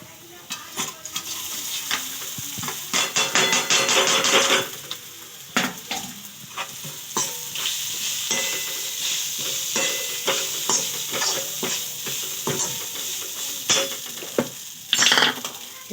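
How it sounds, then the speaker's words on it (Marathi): Soaked poha with turmeric is stirred in a hot frying pan: loud scraping spatula strokes and clinks against metal over a continuous sizzle. "आता याच्यामध्ये पोहे टाकून देऊ आपण हे भिजवलेले पोहे"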